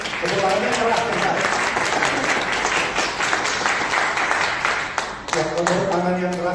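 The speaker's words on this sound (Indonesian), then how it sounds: "Mari kita beri tepuk tangan buat semua. Tepuk tangannya keras ya." Loud, sustained applause from a morning audience, a dense wash of clapping that continues evenly, with a voice speaking over it at the start and again at the end.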